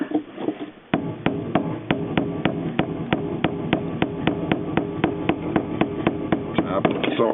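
Hammer striking a screwdriver to loosen a fuel pump part on a 2002 Mazda Tribute, about twenty sharp metallic taps in a steady rhythm at close range, with a low hum and faint murmuring beneath.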